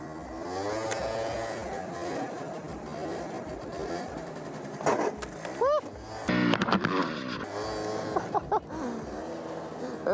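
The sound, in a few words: stock 50cc scooter engine revving during a wheelie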